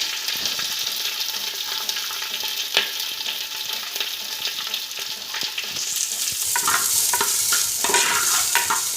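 Onions, curry leaves and ginger fry in hot oil for a Tulu-style fish curry, giving a steady close sizzle with occasional stirring scrapes, growing louder and brighter near the end.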